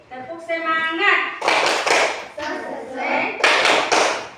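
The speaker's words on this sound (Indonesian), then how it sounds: "Kita mulai tepuk semangat." Standing schoolchildren perform a patterned classroom spirit clap, short grouped bursts of hand claps alternating with chanted voices in a steady rhythm.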